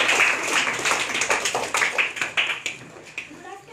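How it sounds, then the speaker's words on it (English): An audience at a school speech competition claps in a quick, dense burst that thins out into scattered individual claps, with some voices mixed in. "Let's have clap for her."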